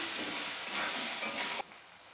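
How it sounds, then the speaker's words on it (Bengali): Potatoes seasoned with salt and turmeric fry in hot oil, reddening toward golden for an egg curry, a steady close sizzle with stirring that drops sharply quieter near the end. "আমি আলুগুলোকে লাল লাল করে ভেজে নিচ্ছি।"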